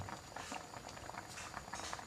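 A pot of Thai sour soup with mixed sea fish, including flatfish, bubbles at a rolling boil, with quiet irregular popping and gurgling close by and no voices.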